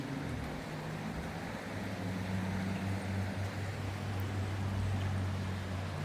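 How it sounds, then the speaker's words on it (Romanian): The small Bănița river flows through a mountain gorge as a constant low rushing hiss with a faint steady hum beneath, fairly quiet and unbroken, with no voices. "Ia să vedem pe unde trece râul Bănița."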